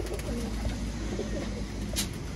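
Soft cooing of performance flying pigeons in a breeder's loft with young chicks, low murmuring calls continuing steadily over a constant background hum.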